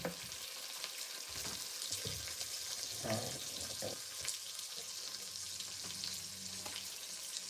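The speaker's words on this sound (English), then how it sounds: "it's bubbling now" A pot of food bubbles and sizzles on the stove in an African home kitchen, a steady frying hiss with soft pops and a few stirring scrapes, close and continuous, with no talking.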